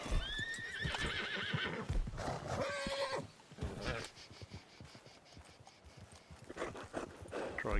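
Horse whinnying and neighing in a PS4 game, with high wavering calls rising over a busy mix of hoofbeats, clashing effects and other game sounds; a voice also talks.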